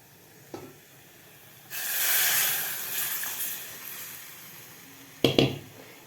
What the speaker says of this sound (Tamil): புளி கரைச்சி வடிகட்டி வச்சிருக்கிறோம் இல்லையா அதை வந்து இதில் ஊற்றிடலாம்